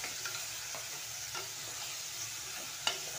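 Bottle gourd frying in oil while being stirred, giving a continuous close sizzle with a few light scrapes and one sharp clink of a utensil against the pan.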